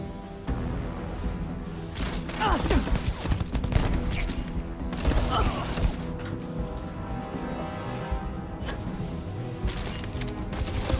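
Gunfire in the sci-fi video game Starfield: loud, close bursts of rapid shots and impacts come in repeated volleys over a constant game background.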